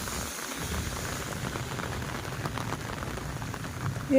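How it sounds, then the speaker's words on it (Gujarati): Heavy rain pours steadily in a thunderstorm, a dense, even hiss of drops on surfaces that stays loud and unbroken throughout, with no voices. "અત્યારે વરસાદ હજી ચાલુ જ છે"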